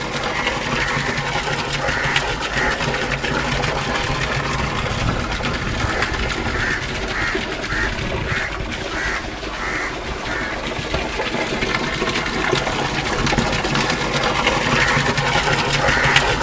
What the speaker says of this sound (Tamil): நேரடியாக பம்ப் செட் ஓடும்போது இந்த தொட்டிக்கு தண்ணி வர்ற மாதிரி ஒரு அமைப்பை ஏற்படுத்தியிருக்கிறோம்.